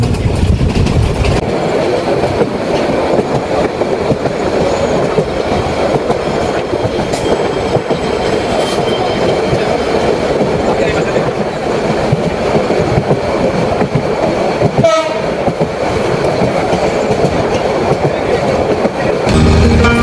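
A Cox's Bazar Express passenger train rumbling steadily along the tracks, with continuous rolling noise and faint rhythmic clatter from the wheels, heard close from inside a carriage.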